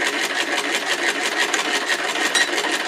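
Hand-cranked sewing machine, a cheap Chinese crank model, stitching steadily at close range with a continuous rhythmic rasping whir and no talk over it.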